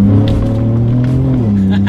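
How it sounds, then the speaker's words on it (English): The engine of a 2019 Ford Raptor drones loud and steady from inside the cab, its pitch climbing slightly and then dropping as a gear changes. "I'm gonna test out the paddle shifters first here"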